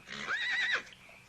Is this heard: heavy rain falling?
no